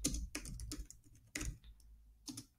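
Typing on a computer keyboard: close, quiet key clicks in uneven clusters, with short pauses between bursts and no speech.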